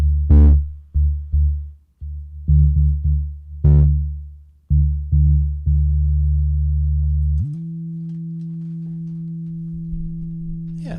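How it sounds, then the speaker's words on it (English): Deep synth bass notes in a smooth sine tone, played as a series of short plucked notes, then one long sustained note that slides up and holds. "so you should be hearing a sine wave."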